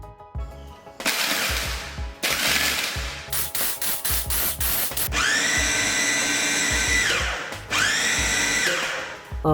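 A food processor whirs in loud bursts as it grinds meatball dough with crushed ice, its motor pitch rising and falling, with short stops and restarts between runs.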